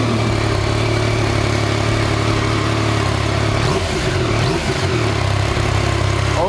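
Yamaha MT-09 SP three-cylinder motorcycle, warmed up, idling steadily and loudly up close, with a slight blip of the throttle partway through.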